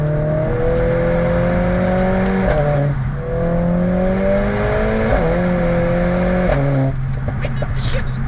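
A Mercedes A45S AMG engine pulls hard through the gears close up, its rising drone broken by quick shifts with a brief dip at each change, while a person talks over the loud, continuous roar.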